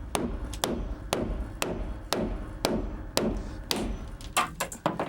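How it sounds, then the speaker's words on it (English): A hammer knocks a notch out of a cut wooden board during house construction, about a dozen sharp, close whacks at a quick, uneven rhythm, the last few coming in a faster cluster. "you can take a hammer, give it a couple of whacks"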